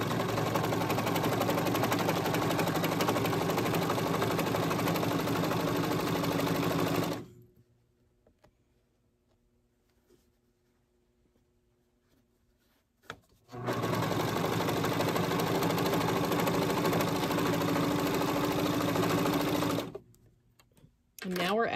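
A serger sews a rolled edge on jersey knit fabric, running as a loud fast mechanical whir in two long bursts split by a quiet pause with a soft click.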